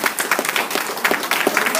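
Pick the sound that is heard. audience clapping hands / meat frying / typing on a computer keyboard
audience clapping hands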